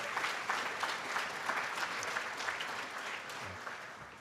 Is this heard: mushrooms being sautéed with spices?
no